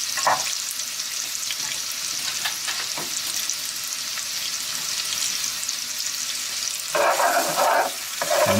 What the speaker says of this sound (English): And this is the stir part of the stir fry, right?